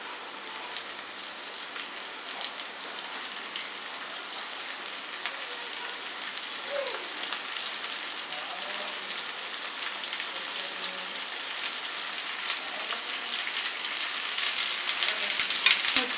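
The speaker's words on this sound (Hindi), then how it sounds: "अब इसमें हम अपने टमाटर डालेंगे जो हमने काट के रखे थे।" Chopped tomatoes frying in a pan for homemade pizza sauce, giving a steady, close, rain-like sizzle that runs on alone and grows slightly louder toward the end.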